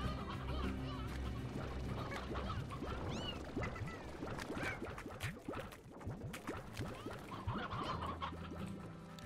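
Chickens cluck and squawk in a farming video game, their busy calls layered over steady game music and sound effects for the whole stretch.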